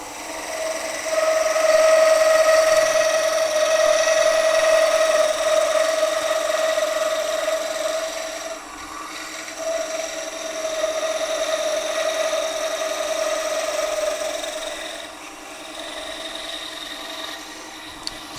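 Skew chisel shaves along a spinning wooden blank on a lathe, a continuous whirring hum with a sustained cutting tone that dips briefly and resumes, close and steady.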